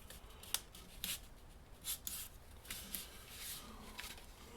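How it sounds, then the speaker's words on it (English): Strips of tape rip off a roll in a workshop, a series of quick crisp tearing bursts and light handling noises, close and fairly quiet, with no talking. "Let's throw a piece of tape on that."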